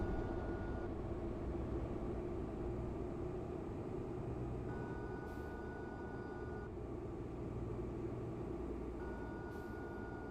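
Steady low rumble of a bus's retarder in Euro Truck Simulator 2, a constant droning whine with faint tonal hum layered on top, continuous and fairly loud throughout with no talk.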